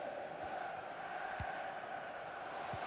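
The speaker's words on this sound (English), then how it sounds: "The crowd encouraging him to take it on." Stadium crowd noise from a football video game, a steady broad roar of supporters filling the background with a few soft thumps, no clear voices over it.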